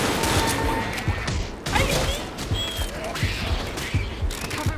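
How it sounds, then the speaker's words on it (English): Guns fire at a zombie in a video game, a loud run of repeated gunshots with sharp cracks coming every half second or so over a busy noisy background. "I gotta shoot the zombie with this gun!"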